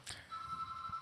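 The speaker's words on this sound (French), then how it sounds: "C'est le téléphone. Il y a ta tata qui appelle." A single telephone ring, a steady electronic tone after a brief burst, moderately quiet beneath faint background noise.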